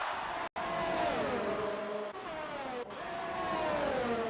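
Race cars in the F1 2019 video game at the Italian Grand Prix, approaching a chicane, whine loudly and continuously with engine pitch sweeping down and up through shifts, a couple of brief cuts in between.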